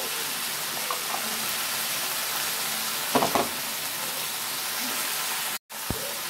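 Vegetables and two dried red chillies frying in a pan with five-spice tempering, giving a steady close sizzle throughout, a brief burst of stirring clatter midway and a short drop in the sound near the end.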